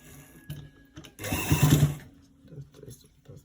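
A sewing machine stitches a shirt front zipper in one short close whirring burst of about a second, with a person talking before and after it.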